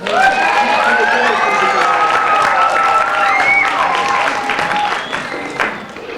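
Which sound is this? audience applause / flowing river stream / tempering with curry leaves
audience applause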